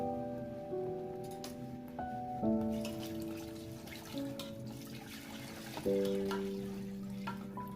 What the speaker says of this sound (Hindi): इसमें खूब पानी डाल देना है